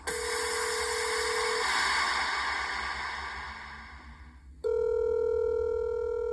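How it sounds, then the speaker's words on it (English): A telephone for a prank call gives out steady electronic dialing and ringing tones. One tone stops, leaves a hissy lull, then resumes abruptly near the end. "It's another Jubal phone prank"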